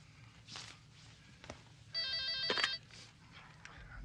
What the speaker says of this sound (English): Anybody answer the phone around here?